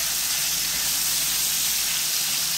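Steady broadband sizzling hiss of dried buffalo meat frying in a pan, continuous and fairly close, with no talking.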